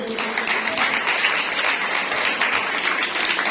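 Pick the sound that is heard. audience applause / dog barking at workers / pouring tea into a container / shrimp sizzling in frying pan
audience applause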